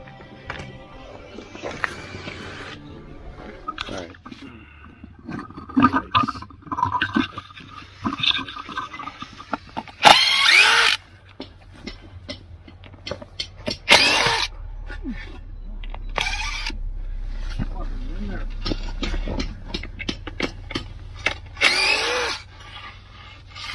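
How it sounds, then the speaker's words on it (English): A screw gun drives screws while an old front porch is rebuilt, giving several short loud whirring bursts between pauses, with clattering tool handling and people talking nearby. "You done with that screw gun, Jim?"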